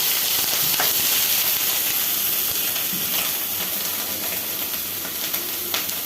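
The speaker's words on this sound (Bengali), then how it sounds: "চিংড়ি মাছটা একটু ভাজা ভাজা করে ফেলবো যাতে কাঁচা গন্ধটা না থাকে।" Shrimp frying in oil with spices in a pan make a steady, moderate sizzling hiss, with a few soft clicks and pops scattered through.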